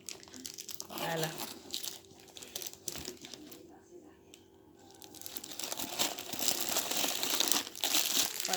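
Crinkling plastic packaging on a handbag being opened, rustles and crunches coming and going over several seconds, louder toward the end, with a person talking quietly at times.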